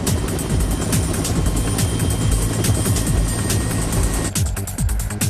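Helicopter in flight carrying the end of a bridge cable from the anchorage to the first tower, a loud steady rotor chop and turbine roar throughout, with a brief dip near the end.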